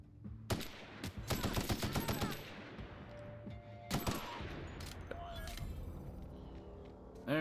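Machine gun fire in the video game The Outer Worlds, sharp rapid bursts and fusillades with pauses between them, loud and close, with someone talking intermittently over the shooting.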